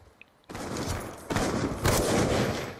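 Gunfire from a trickshot in a shooting video game: two sharp, loud shot onsets with a dense burst of firing noise trailing after each, close and sustained.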